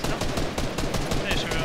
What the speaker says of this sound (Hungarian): Nem, ez a gépfegyverrel lövöldöznek.